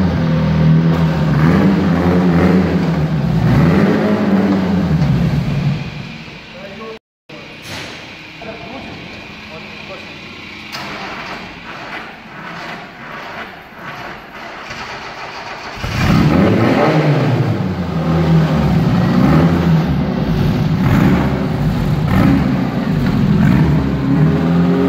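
An aging off-road car's engine fires up and runs loud and close, revving with rising and falling roars, dropping to a rough idle midway before surging again, with voices talking over it.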